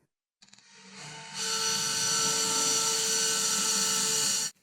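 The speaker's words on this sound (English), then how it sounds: "I'm going to start out with just some light pressure on this, pretty much just the weight of the drill" A drill whines steadily, rising in pitch as it speeds up and bores into white oak for several seconds under light pressure, then cuts off abruptly.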